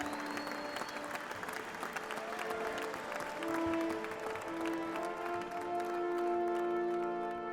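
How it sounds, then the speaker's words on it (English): A crowd claps and cheers steadily at a moderate distance, with sustained tones and music underneath. "you hear them all cheering for him"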